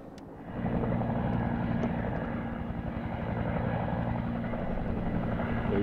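Helicopter flying overhead above the Temagami wilderness, a loud steady rotor drone that swells in after a quieter start and holds throughout, with no voices.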